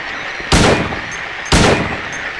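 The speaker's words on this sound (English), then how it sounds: "I'm going to attempt to shoot Pyramid Head now" Two loud handgun shots fired at Pyramid Head in Silent Hill 2, spaced about a second apart, each a sharp close crack with a short ringing tail.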